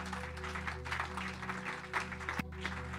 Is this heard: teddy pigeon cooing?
no